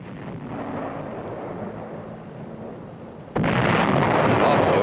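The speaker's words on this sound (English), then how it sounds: "At the same time, the artillery threw in white phosphorus shells." Artillery bombardment with white phosphorus shells in 1951 Korean War footage, heard as a rumbling roar of distant blasts that swells into a louder, harsher burst near the end.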